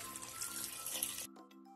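Hot water pours into a cooking pot for about a second, a soft close rushing splash that stops abruptly, leaving only faint background sound.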